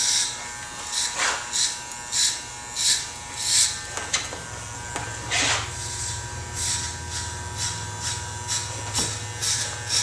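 Hair clippers fading a flattop on wavy hair, buzzing steadily up close with repeated bursts of cutting as the blade passes through the hair.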